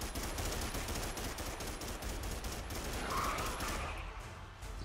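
Dense, continuous gunfire in the dinosaur shooter Primal Carnage, a steady loud barrage of rapid shots filling the whole stretch with no pauses and no talking.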